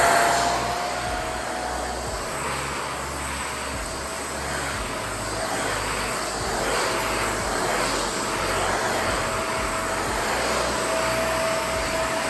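A Shark Rotator Powered Lift-Away NV752 vacuum cleaner cleans crumbs off a couch, its motor droning in a loud, steady whine with a slight tonal hum that barely changes throughout and no talking.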